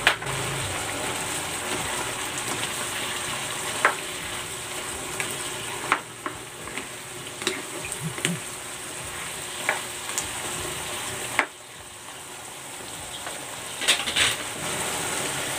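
String beans (sitaw) sizzle steadily as they stir-fry in a pan, a soft continuous frying hiss broken by occasional scraping clicks of a utensil, with a brief dip in the sizzle partway through.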